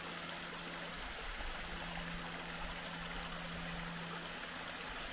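Small cascading waterfall on Walden Creek near Dahlonega, Georgia: a steady, close, even rush of falling water that never breaks off.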